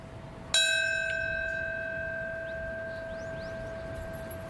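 Memorial bell tolling at a 9/11 anniversary ceremony at the World Trade Center site, one clear struck note ringing and slowly fading over an outdoor crowd's hush, with faint bird chirps.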